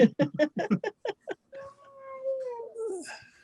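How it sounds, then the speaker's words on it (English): A husky shut in a back room while visitors are in the living room whines in a long, wavering, high-pitched cry. It comes right after a burst of close talking and is fairly quiet. "she's a husky, and she's complaining because she's locked back here when there's visitors out in the living room"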